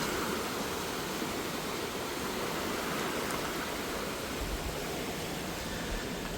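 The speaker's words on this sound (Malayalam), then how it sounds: "എന്നാൽ നല്ല വരവാണ് വെള്ളത്തിൻ്റെ." Floodwater of the Pamba river, swollen after a landslide, rushes past near a bridge with a dense, unbroken roar that stays steady and moderately loud throughout, with no voices.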